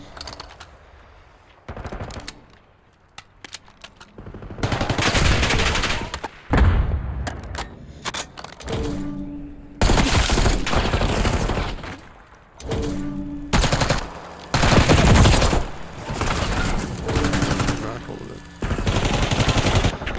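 Rapid automatic gunfire and bursts of shots in a competitive first-person shooter match, loud and dense in repeated volleys, with a commentator's voice talking over the action.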